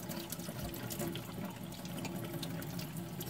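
Hot tap water runs steadily over a pig's foot as it is cleaned of hair, a close, even rushing flow into a sink with no talking.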